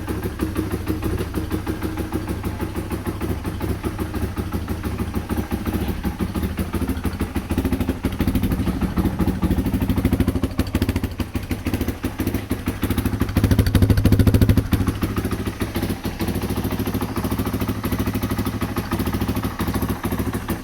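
Yamaha XT225 motorcycle idling on full choke after a cold start following ten months of storage, a loud, close, steady single-cylinder putter with a fast, even pulse that holds for the full length.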